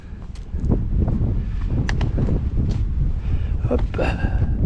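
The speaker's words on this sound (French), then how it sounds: "Alors maintenant là il y a du vent hein, par contre." Wind gusts across an open, wooded hillside trail on the Crêtes de Saint-Pancrace loop in the Drôme, a steady roaring rush buffeting the microphone with footsteps and rustling mixed in.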